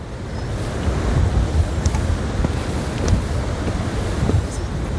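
The Budhil river on the Manimahesh trek rushes steadily nearby, a broad continuous roar of flowing water with wind buffeting the microphone and no speech.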